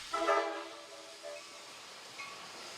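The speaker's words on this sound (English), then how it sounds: "passenger and commuter trains arrived in Fullerton" A passenger train arriving at Fullerton station gives a brief, fairly loud horn-like blast with strong tonal bands at the start. It fades into a low rumble with faint tonal accents later on, and no voices are heard.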